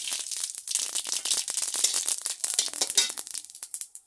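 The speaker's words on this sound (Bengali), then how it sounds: "তেল গরম হয়েছে এখন শুকনো লঙ্কা দিয়ে দিচ্ছি আর সর্ষে ফোড়ন" Dry red chillies and mustard seeds sizzling in hot oil in a home kitchen, a close, busy stream of bright crackles and pops that rises and falls throughout, with no voices.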